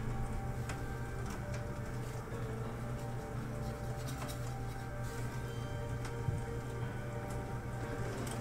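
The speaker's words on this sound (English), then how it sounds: "Ooh, it's raining hard out there." Heavy rain falls outside, a continuous soft patter and hiss with faint scattered ticks, steady and muffled as if heard from indoors, with no voices.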